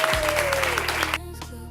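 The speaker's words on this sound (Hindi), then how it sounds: "पूरा मैदान तालियों और नारों से गूंज उठा" A cartoon crowd applauds the announcement of a student union election winner: a short burst of clapping over a held musical tone that cuts off abruptly, leaving quieter music.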